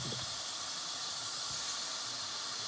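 Butter sizzling steadily in a hot pan, a continuous bright hiss held at an even level throughout, close and unbroken, with no talking.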